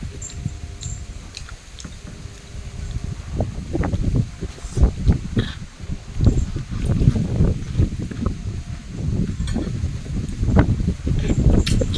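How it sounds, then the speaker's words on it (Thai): Gusty wind buffets the microphone in low rumbling surges, rising and falling over several seconds with some rustling, and no talking. "ลมพัด"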